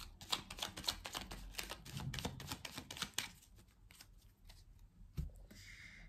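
A deck of cards being shuffled for a nine-card reading, a dense run of rapid close riffling slaps for about three seconds, then a quieter pause with a single soft knock and a faint shuffle.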